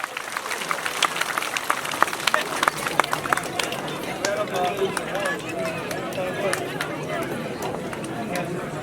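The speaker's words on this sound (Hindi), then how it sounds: "प्लीज जोरदार तालियां, प्लीज जोरदार तालियां।" Applause from an outdoor fair crowd at the Tunan Jeth Mela in Himachal, sustained clapping with some crowd chatter, steady and fairly loud throughout.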